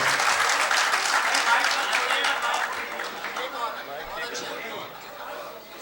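An audience at a 2004 Urdu poetry mushaira in Houston claps loudly, the applause thinning gradually toward the end as murmured chatter and a voice rise beneath it.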